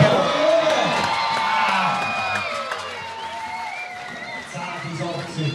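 Loud crowd cheering, whooping and shouting at a Swiss timbersports competition, sustained and close throughout.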